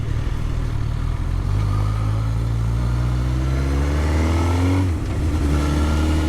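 A Suzuki GSX-R1000 K5/K6 sport motorcycle engine revs hard and accelerates, pitch climbing steadily for several seconds before dropping briefly and rising again, loud and close.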